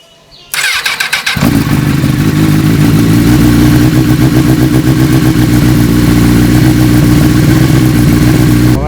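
A Honda Fireblade motorcycle engine cranks, catches and settles into a loud, close, steady idle on choke, with a rapid, even, slightly muffled chugging.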